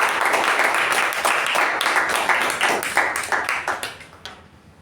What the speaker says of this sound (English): can I have a big round of applause for Toastmaster Shreya?